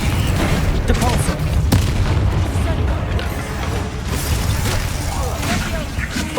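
Spell impacts from Depulso cast in the Hogwarts Legacy video game, a dense run of booming, rumbling blasts and magical whooshes layered continuously over loud game effects and music for several seconds.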